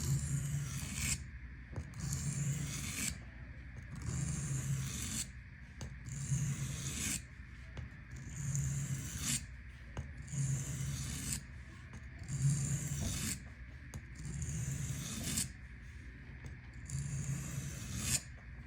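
A knife is drawn across a 6 by 2.5 inch sharpening stone in steady back-and-forth strokes, about eight rasping passes with short pauses between them, close and clear with no talking.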